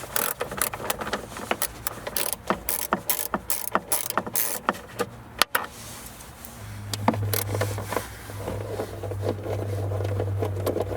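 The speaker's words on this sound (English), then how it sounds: "To remove the side panel, we'll need to remove 3 8mm bolts." Hand ratchet loosening 8mm bolts on a Volvo XC side panel, rapid close clicking in repeated bursts, followed by a steadier mechanical whir and rattle as the bolt spins out.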